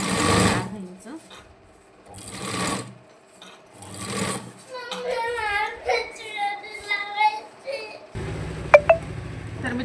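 A sewing machine stitches the princess-cut front panel of a size 28 boat-neck garment in short bursts between pauses, someone talking over and between the runs of rapid stitching.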